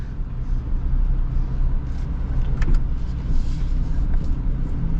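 A 2026 Toyota Tundra TRD Rally pickup crawling off-road under crawl control, a steady low engine rumble with faint scrapes and creaks from the terrain, fairly constant throughout.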